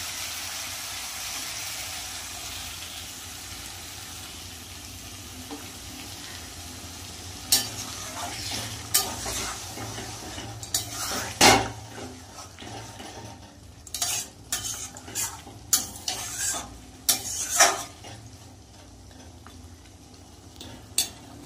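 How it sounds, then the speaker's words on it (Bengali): Potato and fish head curry sizzling steadily in a pan after water is added, with a soft continuous fry hiss and sharp clinks of a utensil stirring, growing more frequent toward the end. "এবার জল দিয়ে দেবো।"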